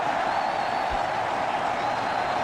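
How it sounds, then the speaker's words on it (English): A cricket stadium crowd at a 2008 Bangladesh versus New Zealand one-day international roars steadily after a boundary, a dense, continuous wash of cheering and applause with no breaks. "Crowd are going berserk. They're loving this."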